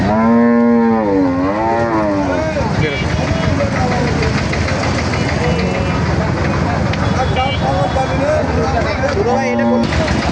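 Cattle low repeatedly at a crowded rural cow market, with deep drawn-out moos up close, amid constant crowd chatter and the rumble of a nearby idling engine.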